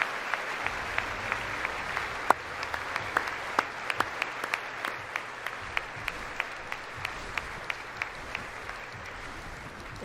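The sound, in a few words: applause at State of the Union speech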